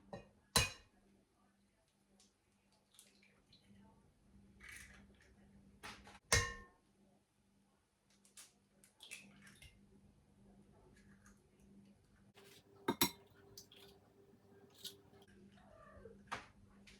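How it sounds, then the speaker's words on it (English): Eggs being cracked into a bowl for pumpkin bread pudding, heard as a few sharp, quiet taps spaced several seconds apart, with soft handling noises in between and no voices. "I use 8 eggs in mine for this size of a dish. So let's get to cracking."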